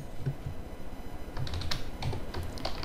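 Code being typed on a computer keyboard, with steady bursts of light plastic key clicks at close range and no voices.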